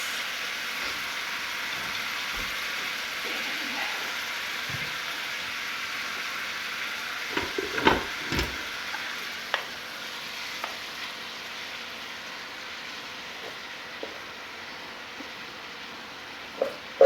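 Fried rice sizzling in a pot and being stirred with a heavy spoon, a steady frying hiss with scattered scraping knocks and clinks, loudest around the middle and again near the end, no talking.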